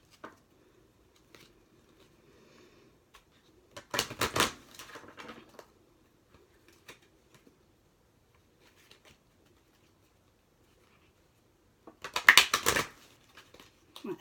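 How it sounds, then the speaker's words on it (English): Tarot cards are shuffled in two short crisp bursts of rapid papery riffling, a few seconds each and separated by near silence, close by and moderately loud. "I'm just going to shuffle up the cards"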